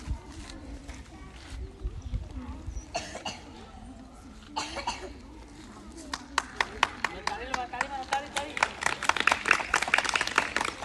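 Hands clap in quick, irregular bursts at a village upper primary school sports competition, growing denser and louder toward the end amid coughing, chatter and outdoor crowd noise.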